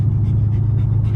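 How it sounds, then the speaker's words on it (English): A dog pants rapidly and steadily inside a Lexus IS-F, close and loud, with the car's low rumble running underneath. "now I've ended up with a dog in my car"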